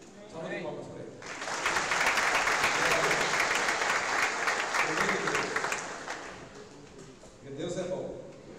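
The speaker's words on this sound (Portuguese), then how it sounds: "Salva de palmas para ele." Applause for a visitor at a Portuguese-speaking church gathering, a steady crowd clapping for about five seconds, then a brief fresh burst of clapping near the end, with faint voices at the edges.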